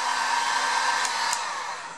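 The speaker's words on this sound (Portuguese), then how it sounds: "Com a pistola térmica, a gente vai aquecer o tubo de acrílico bem ali no ponto." A heat gun blows hot air to warm an acrylic tube for bending, giving a steady, close, dryer-like whoosh with a faint whine that tapers slightly at the end.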